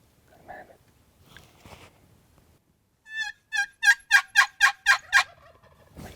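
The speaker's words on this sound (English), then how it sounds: "he gobbles again" A wild turkey gobbles in the open, a fast rattling burst of several loud, rhythmic gobble notes close by, preceded by faint scattered sounds.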